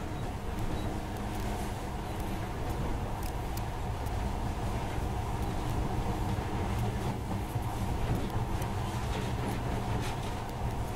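A monorail train ride in the video game Metro 2033 Redux: a steady rumbling, rattling rail drone with faint clanks, continuous and moderately loud, with no speech.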